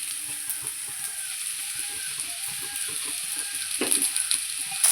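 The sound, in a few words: brinjal frying and sizzling in a pan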